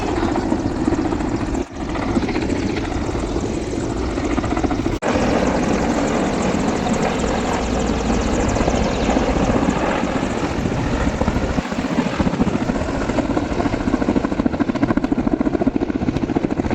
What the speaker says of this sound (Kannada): ನಿನ್ನೆ ವಿಧಾನಸೌಧಕ್ಕೆ ಹೆಲಿಕಾಪ್ಟರ್ ಬಂದಿತ್ತು.